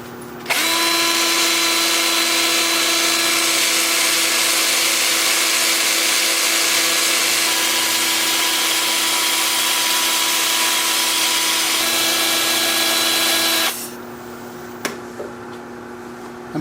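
A power sander works wood at 80 grit with a steady, loud whine and broadband hiss held for about thirteen seconds, then cuts off, leaving faint room noise and a couple of small knocks.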